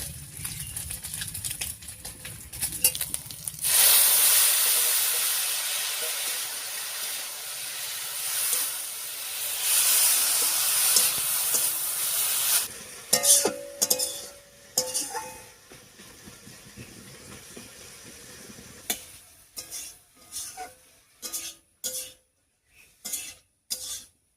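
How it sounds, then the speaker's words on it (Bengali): Pumpkin greens drop into a hot pan of lightly fried shrimp, releasing a loud steamy hiss that gradually settles, followed by scattered clinks and scrapes of a utensil against the pan. "ফোড়নের উপরে চিংড়ি মাছটা দিয়ে হালকা করে ভেজে নিয়েছি। এবার শাকটা দেবো।"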